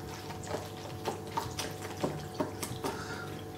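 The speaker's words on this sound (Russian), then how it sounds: "Берем отстойную воду, наливаем" Settled water trickles and drips into a bowl for watering a Phalaenopsis orchid, with a soft run of liquid broken by small splashy plops at irregular intervals.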